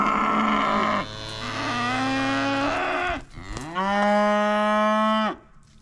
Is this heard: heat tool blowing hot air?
no